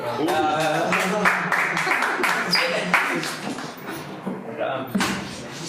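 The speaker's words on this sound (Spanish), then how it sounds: "Aplausos por Rafa." A small gathering claps for Rafa, a preacher about to give a sermon, a scattered run of sharp nearby handclaps with brief pauses and voices talking over it.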